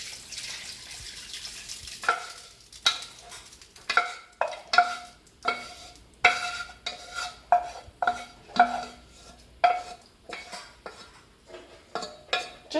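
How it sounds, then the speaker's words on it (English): Cheesy sauce mixture stirred in a pot, a steady series of scraping spoon-on-metal clinks in an irregular rhythm, close and fairly loud, with faint kitchen background and no talk. "give it a little stir, and simply add it inside of your much larger pot"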